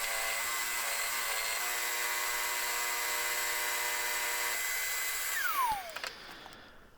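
A power saw cuts a wooden strop handle with a steady high whine, then winds down with a falling pitch as the cut finishes.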